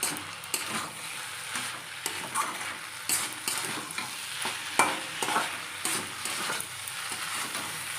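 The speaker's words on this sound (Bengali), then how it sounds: "আস্তে আস্তে করে আমি ভাজা ভাজা করে নেব" Vegetarian chow mein being stir-fried with red chilli sauce and other sauces in a pan, a close, continuous sizzle with repeated scraping and tossing strokes of a spatula at an uneven rhythm.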